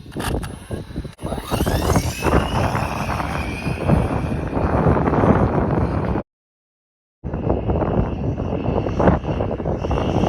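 RC car motor running at full throttle on a 3S 2,200 mAh LiPo pack, a loud sustained high-pitched whine with wind buffeting that cuts out briefly before resuming at full roar.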